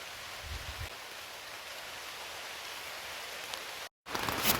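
Steady rain coming down on a rain tarp at a creekside campsite, a soft constant hiss heard close, with a brief cut near the end followed by louder patter.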